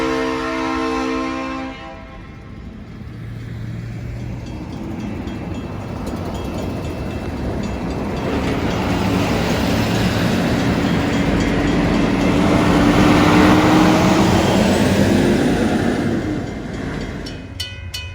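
A Georgia Northeastern Railroad freight train passes near Sandy Plains Road, its rumble swelling as it approaches and a sustained horn blast ringing out over the rolling rail noise, with no talking.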